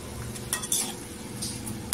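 Potato, green chilli and raw mango sauté in hot oil, a soft sizzle beneath a few sharp scrapes and clinks of a spoon against the pan, close and fairly quiet.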